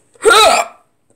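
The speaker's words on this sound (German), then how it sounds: "Und auch noch und rülpsen." One short, loud, close burp from a man, a brief voiced belch lasting about half a second before silence.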